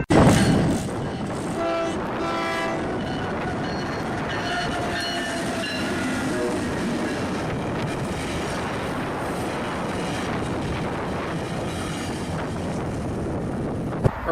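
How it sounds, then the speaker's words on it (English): A Brightline train roars past close by, a loud steady rumble throughout with a horn sounding near the start and rattling wheels underneath. "There is a train coming."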